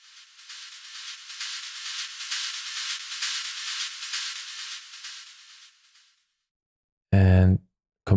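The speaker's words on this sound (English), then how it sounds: "just adding in some white noise and automating it over time in the filter" Filter-automated white noise from a Serum synth in Ableton, a steady bright hiss that gently pulses and swells for about six seconds before cutting to silence, followed by a brief low thump.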